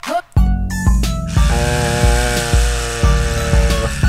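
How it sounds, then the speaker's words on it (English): Electric hair trimmer in the Trimmer Tycoon video game cutting a goatee, a loud steady buzzing hum with regular rhythmic pulses, running close and alone after a brief start. "Let's trim it here."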